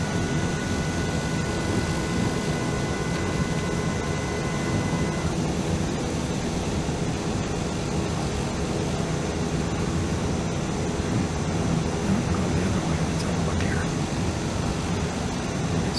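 A TBM 930 turboprop in flight in Microsoft Flight Simulator 2020, a steady broadband engine and airflow drone with a faint whining tone, continuous and even throughout.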